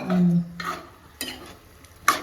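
A spoon scrapes and stirs mutton curry masala with its cooking water in a pan, giving several separate scraping strokes with a light sizzle between them, close and fairly loud.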